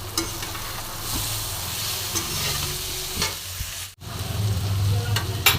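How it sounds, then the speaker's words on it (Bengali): Chopped tomato stirred into a frying fish curry of small fish with potato and papaya, a continuous loud sizzle with rough scraping strokes of a spatula, briefly dropping out before resuming. "একটা টমেটো কুচিয়ে রেখেছিলাম, সেই টমেটোটা এর মধ্যে দিয়ে দেব। দিয়ে আমি আবারও মিশিয়ে নেব।"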